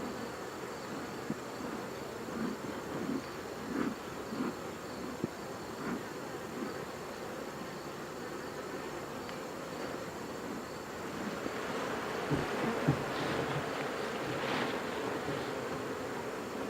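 Bees swarm around a hive, a dense continuous buzzing close by with individual insects droning past, steady throughout with brief louder swells.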